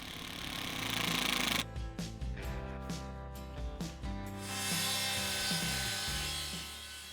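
A power driver sinks self-countersinking screws through the face of a composite deck plank into a joist, with a loud whirring drive that runs in a few bursts, then a steady motor hum.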